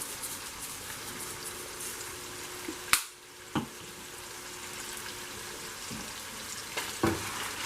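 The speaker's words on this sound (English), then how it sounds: "mix around the ground meat." Ground meat for a mushroom, zucchini and pepper lasagna sizzles steadily in a pan, with a few sharp clacks and scrapes from stirring.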